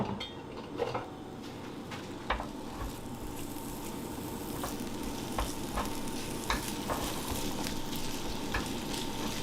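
Food sizzles steadily in a little olive oil in a pan, a continuous close frying hiss broken by a few sharp clinks of a utensil against the cookware.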